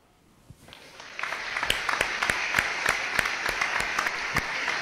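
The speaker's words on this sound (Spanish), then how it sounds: "Bien, aplauso Fernando." Applause in a legislative session begins faintly, then swells into steady clapping from a group, with sharp individual claps standing out over the continuous patter.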